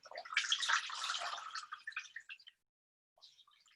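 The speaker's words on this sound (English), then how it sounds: "Return the cloth to the water and soak it, and then wring it out again." A cloth is soaked in water and wrung out, giving a close burst of splashing and trickling that tapers into scattered drips and then silence, followed by a few faint drops.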